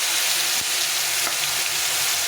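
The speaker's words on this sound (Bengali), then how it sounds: "পনিরগুলোকে হালকা করে একটু ভেজে নেব।" Paneer pieces with salt and turmeric frying in refined oil, a loud continuous sizzle close up with a couple of soft stirring knocks and no voices.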